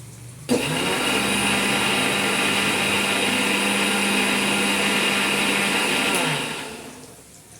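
A mixer grinder grinding spices whirs loudly and steadily for about six seconds, then winds down as it is switched off. No voices.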